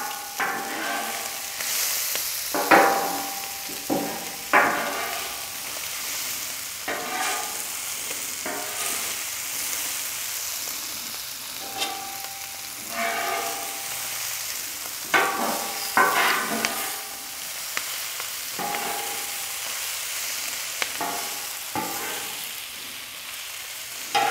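Fried cabbage and Polish sausage being stirred and piled together on a Camp Chef FTG600 griddle: continuous close sizzling with repeated spatula scrapes and clacks against the flat top, irregular and fairly loud, no talking.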